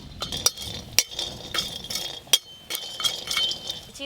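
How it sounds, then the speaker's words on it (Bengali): Nuts frying in a pan, crackling and popping with sharp, irregular clinks and snaps over a soft background sizzle, close and fairly quiet. "এই যে বাদাম ভাজা করছি, কি সুন্দর আওয়াজ হচ্ছে দেখো, ফটফট করে"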